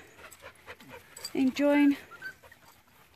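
Young English Springer Spaniel puppies pant and whimper softly while playing on a grass lawn outdoors, with a brief louder whine in the middle and people talking quietly nearby.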